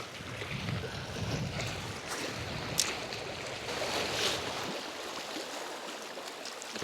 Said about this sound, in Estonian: Hea lainetus on peal